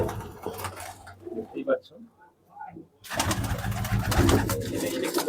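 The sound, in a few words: pigeons cooing in a loft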